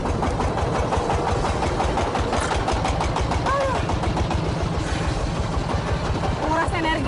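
A ship rope making machine runs steadily at a rope works in Brebes, giving a loud, continuous mechanical drone with rhythmic knocking throughout, and faint voices are mixed in.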